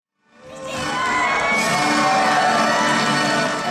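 A high school audience bursts into loud cheering, shouting and applause after a student dance performance, rising quickly from silence into a sustained, dense crowd roar that holds steady to the end.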